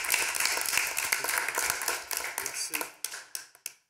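Clapping at a public regional council meeting honouring a member, a small group applauding in a brisk burst that thins to a few scattered claps and stops, with voices briefly underneath.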